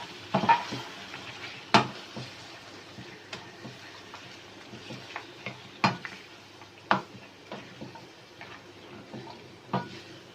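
A utensil stirs tomato slices and yogurt in a pan, making irregular scraping clinks and knocks against the metal over a faint background sizzle. The sounds are close and no one speaks.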